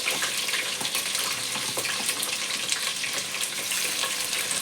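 Onion and green chillies frying in a pan for chicken biryani, a dense, continuous hiss of sizzling oil with faint crackles, close and steady, no talking over it.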